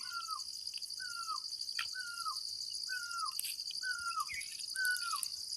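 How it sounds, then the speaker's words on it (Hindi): Birds chirp in a village forest, with one bird repeating a short falling call about six times at an even pace. Steady high insect buzzing runs underneath. "यहाँ पे चिड़ियाओं की आवाज़ सुन सकते हैं आप,"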